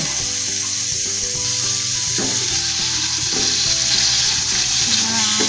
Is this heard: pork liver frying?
yes